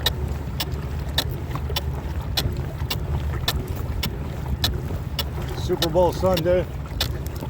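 A small fishing boat runs over cold water with a continuous low engine hum, wind on the microphone and repeated hull slaps, while someone speaks briefly near the end.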